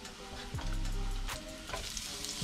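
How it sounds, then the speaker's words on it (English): Chopped mushrooms sear and crackle in hot, lightly smoking oil in a pan, a continuous close sizzle with a few clanks and scrapes of a utensil, no one speaking. "so when we saute our mushrooms, they don't sweat, and we get a nice little sear on them"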